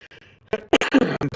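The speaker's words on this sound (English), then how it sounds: "this particular cough is getting on my tits" A man coughs in a rough, repeated burst of several hacking coughs, close and fairly loud, after a brief quieter stretch of breath and throat noise.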